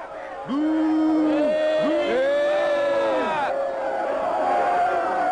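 A crowd jeers and whoops loudly in an animated Notre-Dame square, rising and falling shouts and hoots layered into a continuous near roar after a brief quiet start.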